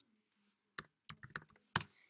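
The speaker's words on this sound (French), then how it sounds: "Et là, je clique sur Entrée." Keys clicking on a computer keyboard in a quiet room, a handful of sharp separate taps ending in a firmer stroke on the Enter key.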